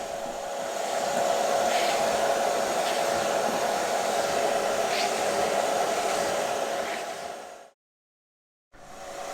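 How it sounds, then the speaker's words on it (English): A shop vac runs steadily and loudly while vacuuming sand and dirt from the fabric of a car boot, a constant motor whine with airflow rush, cutting out briefly near the end before starting again. "I can only vacuum what my shop vac can pull out"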